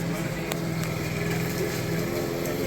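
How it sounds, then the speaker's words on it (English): Petrol lawn mower running outdoors during mowing, a steady continuous engine drone at moderate distance with no pauses, holding level throughout as a background hum. "we've got Ben out there mowing as usual"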